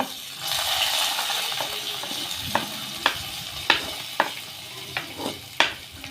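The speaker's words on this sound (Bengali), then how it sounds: "তো এই যে আমি এখন পেঁয়াজ ভাজাটা দিয়ে দিব।" Fried onions tipped into a hot cooking pan for nihari, giving a steady close sizzle broken by several sharp clinks and scrapes of a spoon stirring against the pan.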